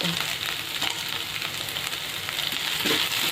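Ginger garlic paste and curry leaves fry in hot oil with a steady, dense sizzle and crackle, close and continuous throughout, with a few faint stirring scrapes and no talking.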